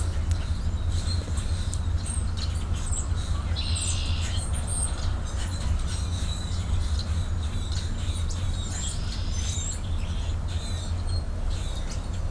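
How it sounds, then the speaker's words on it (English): Birds chirp and call intermittently outdoors, light high twitters scattered over a steady low outdoor rumble, fairly faint and in the background without talking. "And now we wait and listen to birds."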